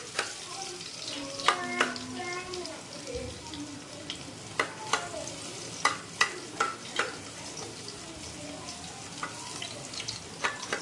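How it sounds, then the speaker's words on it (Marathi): Garlic sautéed in hot oil in a pan gives a steady, close sizzle, broken by repeated scraping stirs and spoon clinks as it is turned. "आणि आता ते गरम झालं आहे त्यात लसूण टाकला आहे आणि आता परतून घेत आहेत"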